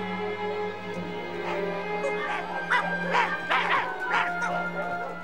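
Several sled dogs bark and yelp in a burst of overlapping calls over a steady background hum, fairly close and moderately loud.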